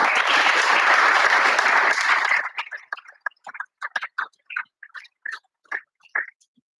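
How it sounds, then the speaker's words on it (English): Loud, dense audience applause for Steve at a community men's group gathering, cutting off after a couple of seconds into scattered single claps and brief sounds. "So give us a round of applause to Steve,"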